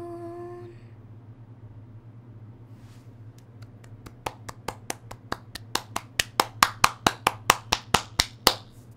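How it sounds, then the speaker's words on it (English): Hand claps in The Walking Dead video game, starting sparse and quickly building into a fast, sharp, increasingly loud run of about twenty claps over a low steady hum. "Clap it up."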